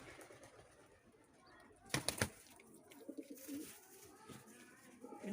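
A pigeon settles onto its nest with chicks in a rooftop loft, giving soft cooing and rustling wing flutters, faint and close, with a few sharper bursts of movement and someone speaking quietly in the background.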